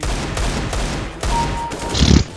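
A rapid burst of loud Desert Eagle gunfire in a Counter-Strike: Global Offensive deathmatch cracks repeatedly, a few sharp shots spaced apart and then a dense volley near the end, with a faint tone underneath.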